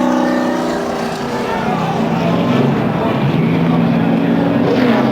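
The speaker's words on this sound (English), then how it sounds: "And a terrible crash coming to the finish." NASCAR stock cars in a big wreck near the finish line at a 2013 race, heard as a loud, continuous roar of engines and track noise with no distinct impact standing out.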